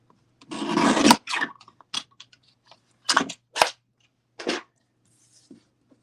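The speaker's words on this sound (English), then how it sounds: "I'm going to get my trimmer, my handy dandy mini trimmer" A handy mini paper trimmer slices through card in a few short rasping strokes, one longer scrape followed by several brief sliding cuts with quiet gaps between them, close and clear.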